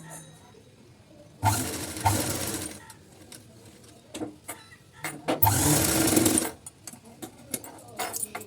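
Sewing machine stitching a blouse collar, running in two loud bursts of fast whirring with quieter handling clicks and pauses between them.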